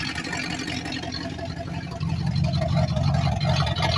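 An idling engine with a leaking exhaust gasket runs in a steady, rough low rumble with a rapid puffing tick, heard close and growing louder partway through.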